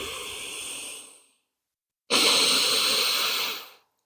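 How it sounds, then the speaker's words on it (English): Two slow, deep breaths during a yoga session: a long airy exhale, a short pause, then a louder, fuller breath, close and alone. "Concentrate on your breath. Slowing it down. Breathing deeply."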